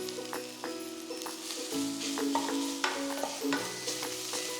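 Chopped ginger, garlic and curry leaves sauté for a Kuttanadan duck curry, a close sizzle broken by repeated spoon scrapes and stirring knocks against the pan, with no talking.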